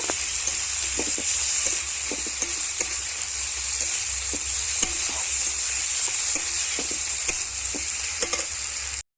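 A masala of onion, ginger paste, garlic paste, green chilli and tomato fries in a pan with a constant bright sizzle, and a spoon scrapes and stirs at a steady rhythm throughout.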